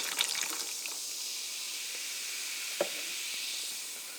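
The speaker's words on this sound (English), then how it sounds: "you open up this can of Pepsi and you pour it into this glass" Pepsi being poured from a can into a glass, a steady fizzing hiss of carbonated soda running for several seconds, close and fairly quiet, with a small clink partway through.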